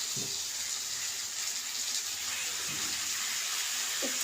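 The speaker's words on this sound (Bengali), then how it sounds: "সামান্য জল দিয়ে দেবে" A little water poured into hot oil with ground spice paste in a pan gives off a steady, fairly loud hiss and splashy rush, with no voices over it.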